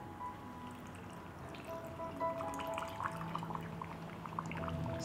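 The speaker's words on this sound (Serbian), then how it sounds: "I sada ću teglu napuniti sa slanom vodom." Salt water pours into a glass jar packed with cabbage, giving a steady trickling, gurgling stream with small drips and a faintly rising filling tone, alone and close.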